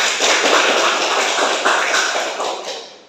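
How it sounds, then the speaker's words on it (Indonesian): Applause from a class of students at the end of a lesson, a dense, steady patter of many hands clapping at once, loud and close, tapering slightly toward the end. "Kita aplaus untuk semuanya."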